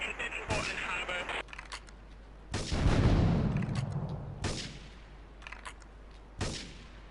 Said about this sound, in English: investigate report of gunfire and explosion